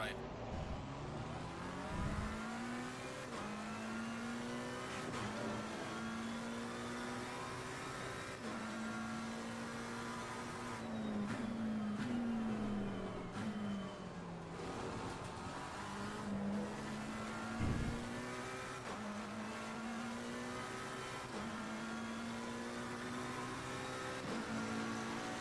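A race car engine drones continuously at high revs through a lap in Assetto Corsa Competizione, loud and close, with gear shifts, brief downshift dips and tire noise.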